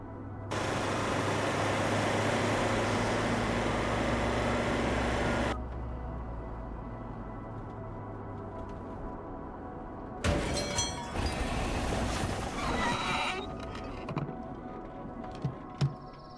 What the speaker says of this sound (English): Engine trouble.